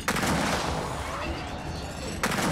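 Heavy sniper fire in Gears of War 4 heard as a loud, sustained booming roar. A sharp crack lands near the start and another near the end, with no clear speech over it.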